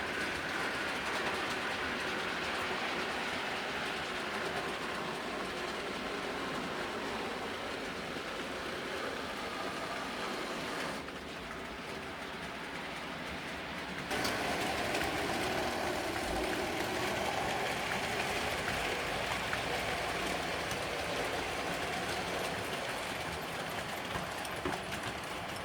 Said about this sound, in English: Now the Class 40 is moving up with a ballast train,